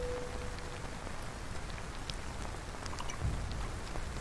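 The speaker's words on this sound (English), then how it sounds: "I'm one of those suckers that just loves the sound of rain" Steady rain falls in the video game Torii, a soft, even hiss of drops on surfaces throughout, fairly quiet, with a faint low thump near the end.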